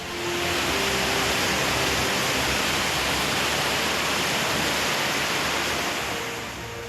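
Surging floodwater waves churn in a loud, continuous roar of rushing water that swells in and fades slightly at the end, with no voices.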